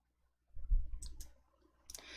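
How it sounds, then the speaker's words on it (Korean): A computer mouse gives a quick double click at a desk during Excel spreadsheet work, two faint, crisp taps close together, followed by a slightly louder click over a soft low hum. "더블 클릭"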